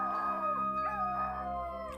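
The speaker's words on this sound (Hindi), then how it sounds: "कुत्ते के रोने की आवाज और तेज हो गई" A dog howls with a long, wavering, mournful cry held over a steady low hum. It is fairly close and heard on its own.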